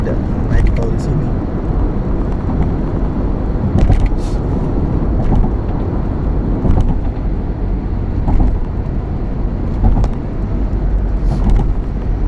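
Heavy traffic of big trucks rumbles near the Bekasi Timur toll exit, a loud, continuous low roar of engines with gusting wind buffeting and occasional passing surges.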